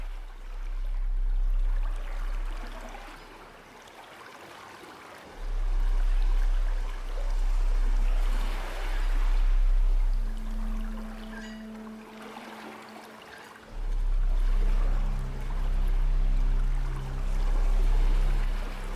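Ocean waves roll in slow, steady surges for meditation, each swell rising and fading in broad washes of water noise close by, with no voices.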